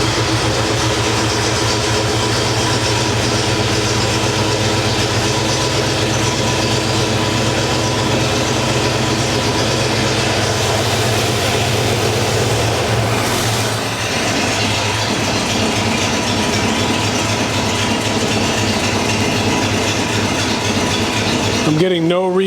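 Engine idling steadily after its first start, a continuous loud rumble with a low throbbing tone, briefly changing pitch midway before cutting off at the end, with no speech over it.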